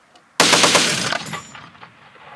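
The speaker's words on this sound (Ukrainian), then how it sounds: "Це кулемет." A close, loud burst of rapid fire from a machine gun mounted on an International MaxxPro armoured vehicle, a quick string of shots that cuts off and echoes away.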